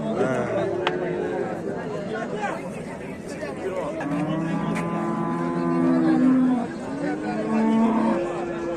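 A cow with a calf gives long, deep moos, several stretched calls in the second half, close by, over a murmur of people chatting in the background.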